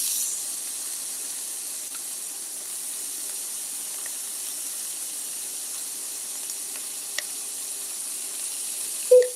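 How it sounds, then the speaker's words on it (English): Bacon sizzles in a skillet with a soft, steady hiss and occasional faint pops, closing with a brief clunk at the very end. "I'm gonna get this bacon in the skillet"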